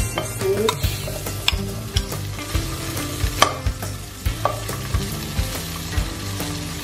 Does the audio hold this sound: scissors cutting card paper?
no